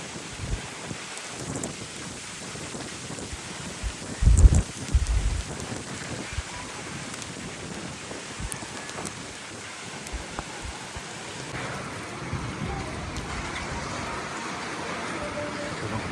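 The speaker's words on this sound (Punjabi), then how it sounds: "ਮੀਂਹ ਲੱਗੇ ਜੀ ਪੈਣ ਬਹੁਤ ਜ਼ੋਰ ਦਾ" Heavy rain roars steadily with gusty wind rising and falling, a brief low thump near the start and the downpour continuing throughout.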